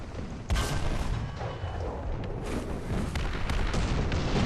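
Gunfire and artillery boom continuously in the tank battle game War Thunder, heavy dense blasts filling a loud, rumbling battlefield.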